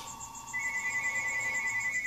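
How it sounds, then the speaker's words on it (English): Electronic telephone ring, a steady warbling tone pulsing evenly and loud, with the ring continuing throughout during servicing of a Yamaha CR-2020 receiver. "I'm going to get the phone"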